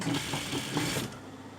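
A sewing machine stitching a jumpsuit runs in a steady close mechanical whir for about a second, then slows and trails off to quiet hum.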